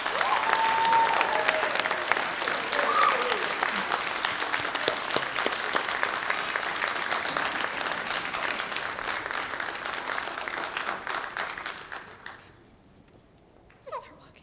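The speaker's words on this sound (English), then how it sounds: "let's give a round of applause and congratulate our newly inducted members" Sustained audience applause for newly inducted National Junior Honor Society members at a 2019 induction ceremony, steady and full for about twelve seconds before dying away to near silence, with a few last claps at the end.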